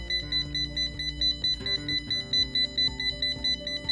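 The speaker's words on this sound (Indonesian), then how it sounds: "Kalau ada gas, dia akan berbunyi seperti ini. Ini gas ya." Beeping gas-detection alert from an adaptive cane for the blind, a rapid repeating electronic ringtone-like pattern of high beeps, loud and steady for several seconds with no talking.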